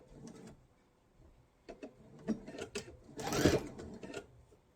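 A sewing machine stitching a knife-edge facing quilt binding, its needle running in short intermittent bursts of quick mechanical clatter, the loudest run near the end, close up and without talk.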